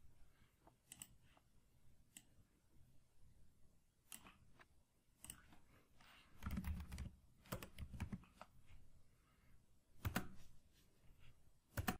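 Typing on a computer keyboard into a browser's developer console, with scattered quiet key clicks and a denser burst of keystrokes midway, close, soft and with no talk.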